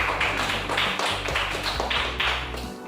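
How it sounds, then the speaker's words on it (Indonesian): Students in a classroom applaud a classmate, their claps landing as close, evenly spaced bursts in a quick, steady rhythm that eases off at the end. "aplaus untuk Nurhanisa"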